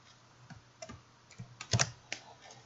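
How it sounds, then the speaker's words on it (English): A few separate clicks from laptop keys being pressed in a short combination, crisp and close, with brief quiet gaps between taps and no talking. "you press Ctrl Shift and I."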